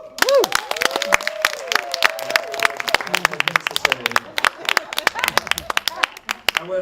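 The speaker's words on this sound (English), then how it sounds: "I want like you to get at least 2, maybe 3 rounds of applause" Applause from an audience at a college literary evening in Brooklyn, dense sharp claps throughout with some cheering voices rising over it.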